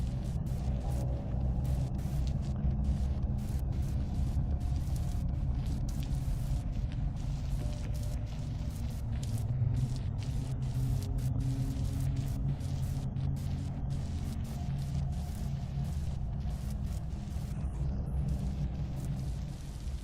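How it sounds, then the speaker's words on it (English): A continuous deep storm rumble from the video game Vintage Story rolls on for about twenty seconds, heavy in the low end with a steady, ominous roar and no voices. "the sound in these storms is so creepy"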